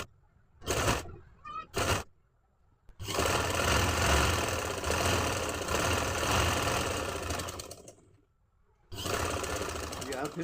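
A sewing machine runs a trouser seam in loud, sustained mechanical bursts, a long stretch of rapid stitching after short starts and stops, with a brief pause near the end before it resumes, all close up.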